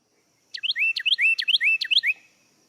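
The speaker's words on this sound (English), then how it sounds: "Carolina wren." Carolina wren singing its tea-kettle song, a loud, clear run of about five rapid repeated whistled phrases, close and alone against silence.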